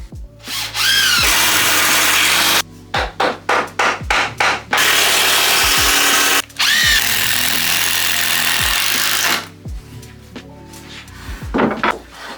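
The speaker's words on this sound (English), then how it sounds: "I'm just going to screw the hinges to the outside, 3 of them across there." A power drill drives screws through hinges into a timber box, with several long close whirring bursts broken by short stop-start pulses and the motor winding down at the end of each screw.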